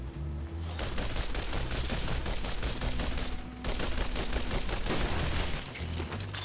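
Rapid, sustained automatic gunfire from a weapon in the robot-blasting shooter Shoot Many Robots rattles on in fast, even bursts, with one brief gap in the middle before the stream of shots resumes and then cuts off.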